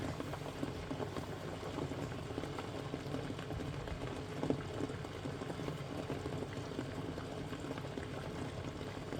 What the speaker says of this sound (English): So let's just bring it up to a boil.